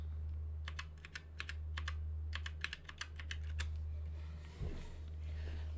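Password typed on a computer keyboard during an Ubuntu setup: a series of quick, light key clicks arriving in short irregular bursts, then a pause, with a steady low fan hum running underneath throughout.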